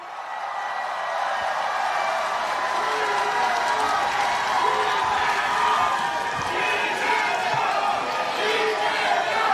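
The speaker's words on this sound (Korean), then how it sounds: "이재명 후보님의 연설을 박수로 청하겠습니다" Crowd at a political campaign rally in Busan cheering and clapping for a presidential candidate's speech, a dense, loud, continuous roar of applause and shouts from a large gathering.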